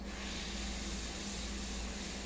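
An airbrush sprays India ink onto a fine art portrait in a steady, continuous hiss of air that stays close and even and runs without pause from start to finish.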